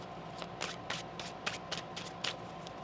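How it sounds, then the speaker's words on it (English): Soft, close riffling of tarot cards being shuffled, several quick bursts in an irregular rhythm against a quiet background. "One more shuffle."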